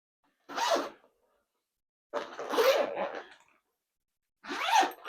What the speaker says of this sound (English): one more zipper here.